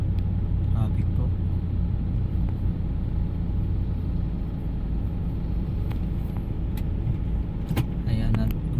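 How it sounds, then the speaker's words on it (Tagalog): Steady road traffic near the Mall of Asia: cars idling and creeping forward with a continuous low rumble, an occasional brief clank or rattle, and no clear voices. "traffic po."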